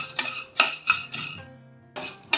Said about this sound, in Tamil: முதல்ல நம்ம வந்து இந்த பொட்டுக்கடலையை வறுத்து எடுத்துக்கலாம்.